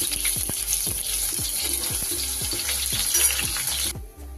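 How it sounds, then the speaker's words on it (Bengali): Pakoras deep-frying in a kadai of oil give off a continuous close sizzle, paced by rhythmic scraping taps roughly every third of a second, before the sound cuts off abruptly near the end. "এগুলোকে খুব ভালো করে ভেজে নেব"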